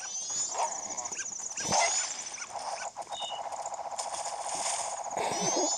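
A dog barks in the game The Legend of Zelda: Majora's Mask 3D, several sharp yips and barks over a bright, tinkling game soundtrack, fairly close and moderately loud, with no speech.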